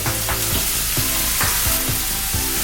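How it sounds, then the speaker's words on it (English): Rice cakes and duck go into a pot of boiling water, giving a steady bubbling, hissing roil with a few soft splashes and plops, close and fairly loud. "now I see our water boiling, so I'm gonna bring our rice cakes, our duck,"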